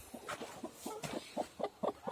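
Village hens clucking in a farmyard, a run of short, repeated clucks at close range that grow slightly louder toward the end, with no talking.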